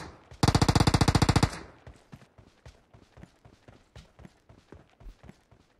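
Rapid burst of automatic gunfire in PUBG Mobile, about a dozen loud evenly spaced shots in a second, followed by softer irregular thuds and footstep-like taps.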